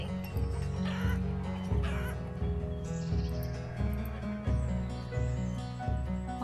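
Clucking chickens in the Banished video game, a series of short rhythmic clucks over a steady musical background.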